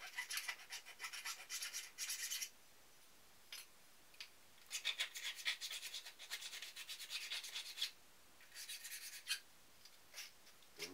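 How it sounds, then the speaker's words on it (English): Hand deburring of drilled holes in an aluminum quick-release bracket, bursts of fine scraping and rubbing strokes in irregular runs with short pauses, close and quiet. "Clean up the little burrs around the holes."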